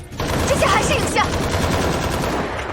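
Gunfire in a horror film set in a cave, a dense burst of rapid machine-gun-like shots with echoing clatter, loud and continuous for a few seconds.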